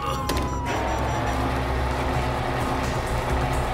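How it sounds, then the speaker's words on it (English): Police car sirens in GTA 5 wail continuously over a loud, dense rumble of engines and noise, a rising-and-falling tone sustained throughout without pause. "you hear that? Sirens!"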